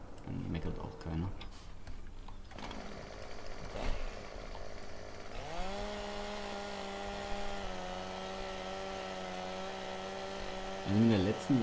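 A chainsaw in Farming Simulator 17 cuts wood, its motor rising into a steady, droning buzz that holds through the second half, with someone talking over it.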